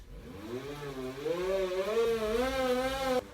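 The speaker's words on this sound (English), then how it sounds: "This is really noisy, but I've set my bike up in my grooming room" A steady mechanical whir that rises in pitch as it speeds up, like an indoor bike trainer spinning fast, loud and close, then cutting off abruptly.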